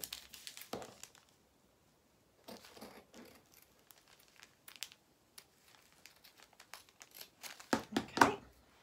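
Scissors snipping through fabric while cutting out a doll-sized shirt piece around its neck edge, in short separate bursts of crisp crinkly cuts with quiet gaps between, growing louder toward the end.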